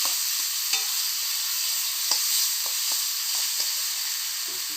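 A ginger, garlic and onion spice paste fries in a pan for a rohu fish kalia, a steady close sizzle broken by soft, regular scrapes of a spoon stirring.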